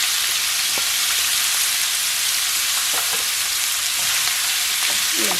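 Coarsely ground meat fries in hot oil, a steady loud broadband sizzle throughout with a few faint clicks and pops, no voices.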